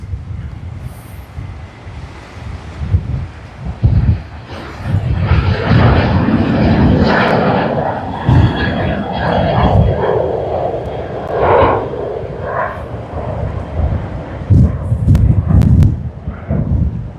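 Jet engines of an airliner in oneworld livery on a Sydney-to-Bengaluru flight rumble loudly near the runway holding point at Sydney Airport, a sustained roar that swells and fades with some sharper bursts.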